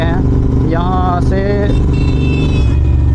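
A motorbike engine hums steadily during a ride through evening traffic, loud and close throughout, with someone talking over it.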